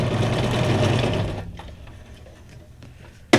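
A sewing machine runs fast, stitching fabric journal tags, with a steady mechanical whir that stops after about a second and a half. Quiet handling clicks follow, then a sharp click near the end.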